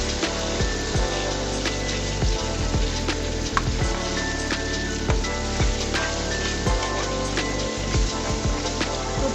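Tomato frying in oil with nonta greens, a continuous crackling, rain-like sizzle with scattered pops and occasional utensil clinks, close and steady.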